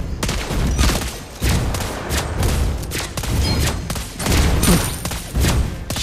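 Lesley's sniper fire in the Mobile Legends: Bang Bang game, a series of loud, punchy gunshot bursts in quick irregular succession with booming impacts, no talk.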